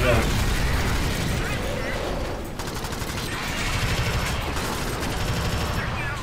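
Dense, continuous bursts of rapid automatic gunfire from a sentry turret in the video game Alien Swarm, with mechanical clatter, loud and sustained throughout, with voices talking underneath.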